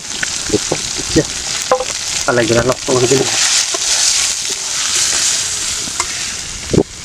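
Fish frying with garlic in a pan outdoors beside a banana grove, with a steady broadband sizzle throughout, a few utensil scrapes and clinks, and brief voices under the frying.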